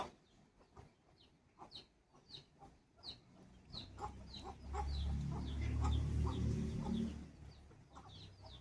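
Hens clucking repeatedly in short bursts at close range, joined midway by a low rumbling background noise that swells and then fades.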